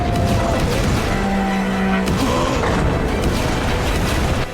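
Explosions in Middle East war footage land as heavy, dense booms and crashing blasts, loud and continuous with rumbling layers and a sharp impact midway.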